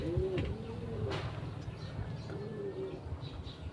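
A racing pigeon coos twice, soft low warbling calls close by with a gap between them, over steady background murmur.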